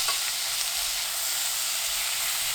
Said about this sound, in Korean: 소고기 넣고 센 불로 1분 30초 볶습니다